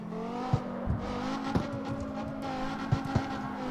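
A drift car held at full steering lock under full power, its engine droning steadily at high revs with brief tire chirps and bumps, loud and close, with no talking.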